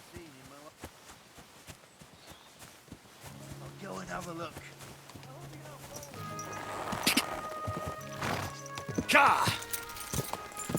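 Horse hooves clip-clop on the ground in the game Kingdom Come Deliverance II, a steady rhythm that grows louder and busier toward the end, with someone talking over the hoofbeats.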